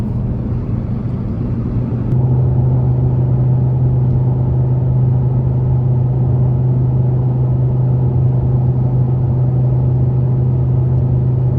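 A rebuilt Audi R8 on a long drive home gives off a steady low engine drone heard from inside the cabin. The drone steps up slightly in level early on, then holds a constant, even hum.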